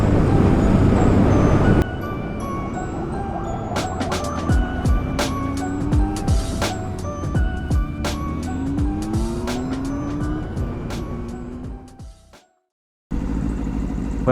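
A barn-find Honda CB750 motorcycle is ridden, its engine droning and changing pitch as it accelerates and shifts, with wind rush and a sharp cut to near silence before the ride noise resumes.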